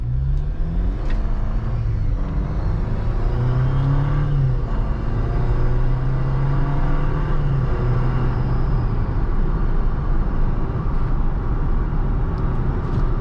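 A 2021 Jeep Wrangler Rubicon on a test drive, its engine droning and rising and falling through gear changes while heavy road rumble runs constantly underneath, heard from inside the cabin.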